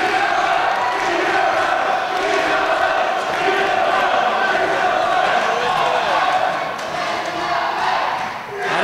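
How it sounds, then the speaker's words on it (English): A wrestling arena crowd roars and cheers wildly in a loud, sustained wall of noise, with an announcer talking over it. "this crowd absolutely crazy, going absolutely nuts for both of these guys"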